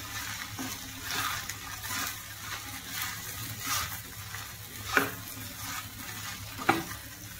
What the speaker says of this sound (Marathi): आणि तो चांगला व्यवस्थित परतून घ्यायचा